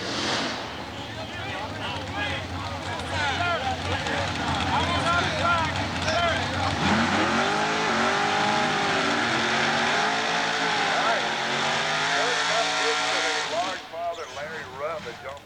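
A Chevrolet Camaro drag car with a 487 cubic inch big block engine roars loudly down the strip at a dragway, its engine note climbing and sweeping in pitch before cutting off near the end.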